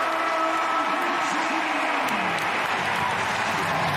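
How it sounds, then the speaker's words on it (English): Crowd of about 800 Virginia football fans cheering in a stadium at a Duke vs Virginia college game after a touchdown catch, a steady, loud roar with applause-like texture that holds throughout. "the 800 Virginia fans are cheering loud because I can hear them"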